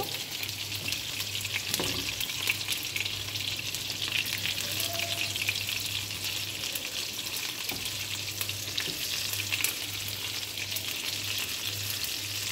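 Prawns rubbed with turmeric and salt fry in mustard oil, a steady dense sizzle that runs the whole time with occasional stirring clatter and a faint low hum underneath; no talking.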